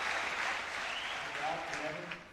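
Spectators applauding at a 1993 professional squash match in Zurich, a dense wash of clapping that holds steady and fades slightly at the end, with a commentator talking over it.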